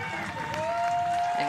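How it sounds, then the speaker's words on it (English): Crowd applause at a pro softball game, a standing ovation for a limping batter after her first hit, a steady wash of clapping and cheering that runs the whole moment beneath a commentator's talk. "getting a standing ovation from the crowd and from her teammates too"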